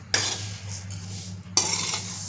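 Masala being stirred and roasted in an iron wok: two long metal scraping strokes of the spoon across the pan over a low, steady sizzle and hum.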